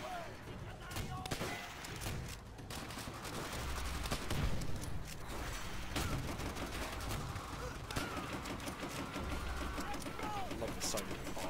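Thompson submachine gun fire in the World at War video game, dense bursts of gunfire running through the whole stretch amid battle noise and explosions, with voices talking over it.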